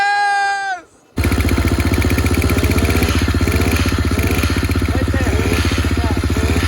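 A two-stroke engine on a cheap motorized bicycle fires up after a brief voice and a pause, then runs loud and close with a fast, rattling buzz and steady clattering pulse, with excited talk over it.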